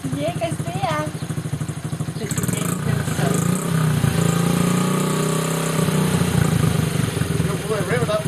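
A toddler's first small motorbike engine revs and idles close by, a steady mid-pitched drone rising and holding for several seconds, with adults talking and making engine noises over it.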